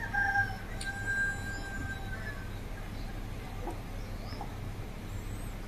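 Chickens call faintly in the distance at a rural farmyard, with scattered short clucks and crowing-like cries over a low, steady background rumble.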